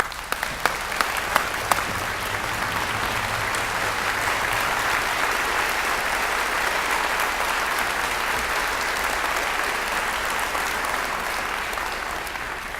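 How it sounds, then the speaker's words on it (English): A room of guests at a business Hall of Fame ceremony in Dothan gives a long, sustained round of applause after an award speech, many hands clapping evenly, with a few sharp claps close by at the start. "One more round of applause."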